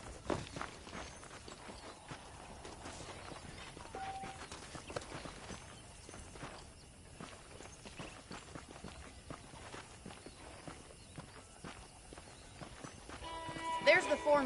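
Horse hooves clip-clop at a walking pace in a PS5 western video game, steady and moderately quiet beneath ongoing character dialogue.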